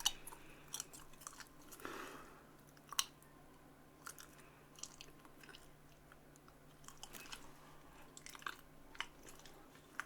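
Someone chewing Paris Baguette glutinous rice cakes, soft sticky mouth sounds with scattered small clicks and smacks, close and quiet over a faint steady hum.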